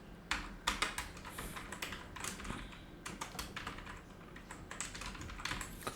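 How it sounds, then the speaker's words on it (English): Replacement text is typed on a computer keyboard in a quick, uneven patter of key clicks with short pauses between bursts, close and fairly quiet, with no voices. "just type that text."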